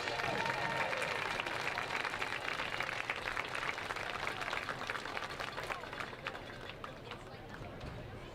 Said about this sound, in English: Let's have another big round of applause for our seniors.